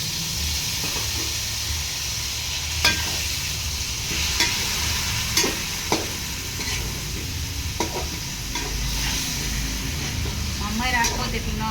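Chicken with turmeric fries in a pan, a bright, constant hissing sizzle punctuated by occasional stirring knocks, while someone talks over it.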